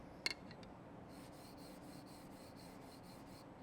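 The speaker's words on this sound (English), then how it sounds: "you can probably hear it on my microphone here, just running my fingers across it." Fingers rub across unsanded aluminum channel letter material, a faint dry rasping in a rhythmic series of short strokes, preceded by a couple of soft ticks.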